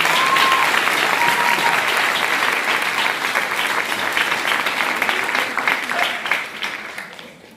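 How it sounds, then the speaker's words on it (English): A large indoor audience at a secondary school open night gives sustained applause, a dense steady wash of clapping that slowly thins toward the end. "I think you deserve another round of applause"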